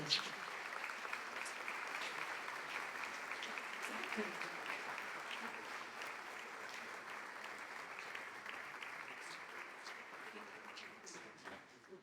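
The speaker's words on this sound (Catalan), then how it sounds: "Un fort aplaudiment." An audience applauds at a Catalan music society event honouring two late musicians, a sustained, fairly distant wash of clapping that holds steady for about twelve seconds with scattered sharper claps near the end.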